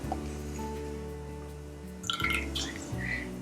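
Lemon honey ginger syrup poured into jars, a low steady gurgling fill that swells and then gives way to a few wet drips and light glassy clinks near the end, close and quiet.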